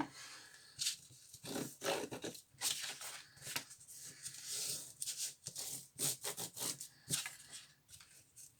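Paper is creased and folded by hand to make an envelope pouch, giving close, irregular rubbing and crinkling swishes in short bursts, with no talking.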